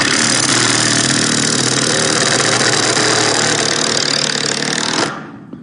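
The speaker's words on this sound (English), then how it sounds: "All right, let's go ahead and insert the screw." A power drill drives a screw into a wooden board, a loud, continuous whirring buzz that runs steadily for about five seconds before cutting off abruptly.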